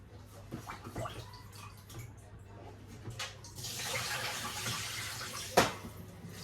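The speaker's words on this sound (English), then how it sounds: "So now I'm going to rinse." Oxtail is rinsed under running water in a kitchen sink. The flow is soft and hissing, with light splashing, and there is one sharper splash near the end. No one speaks.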